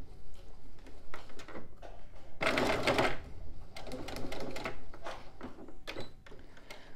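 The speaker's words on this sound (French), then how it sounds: "je vais coudre à peu près à 1 cm des bords" Sewing machine stitching a fabric pouch, a loud burst of rapid mechanical needle clatter in the middle flanked by shorter stitching runs and handling clicks, close up with no talking.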